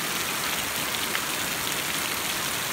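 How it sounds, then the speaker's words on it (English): Heavy rain pours down hard and without a break, a dense, loud hiss of water falling close by that stays steady from start to finish, with no voices. "Look at all that water. Look how hard it's raining."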